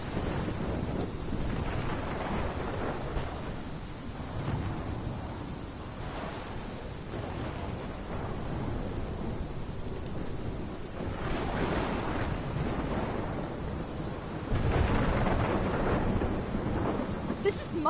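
Thunderstorm in the video game Life Is Strange: continuous heavy rain and wind with deep rolling thunder rumbles, loud and steady throughout, with a stronger surge toward the end and no speech.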